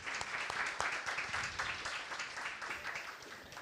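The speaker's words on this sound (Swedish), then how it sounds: "Jag är så glad för att ni tar initiativ till de här applåderna." Audience at a panel discussion in Almedalen 2023 applauds, dense, even clapping from a sizable crowd sustained across the whole stretch at moderate, slightly distant level.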